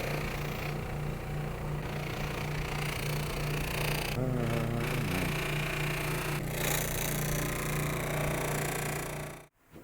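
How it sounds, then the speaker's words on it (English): A brand-new buffing wheel loaded with number 4 finish compound polishing a custom guitar body, giving a steady, loud, grinding whir that holds throughout before cutting off abruptly at the end. "I got the buffing wheel loaded up with some Manzurna 495P, which is a number 4 finish compound"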